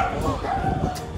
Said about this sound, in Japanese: ワンちゃんね、ワンワンしたね